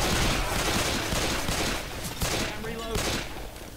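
Pistol gunfire from the video game Left 4 Dead 2, a rapid string of sharp shots, loud and close, mixed with chaotic game noise and brief voices.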